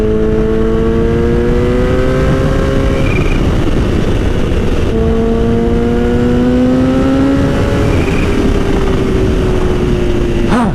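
A Kawasaki Ninja H2 motorcycle engine revs hard twice, each time a loud rising whine that climbs in pitch while the bike accelerates, then drops away between pulls, close to the rider with no talking.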